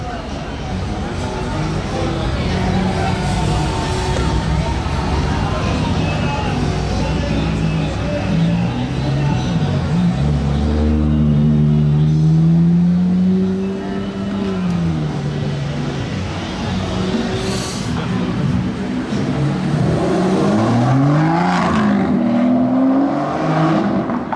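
A convoy of rare supercars, including a Lamborghini Urus, drives past in Monaco during the Grand Prix, engines revving and surging, rising and falling in pitch, with people talking over the noise.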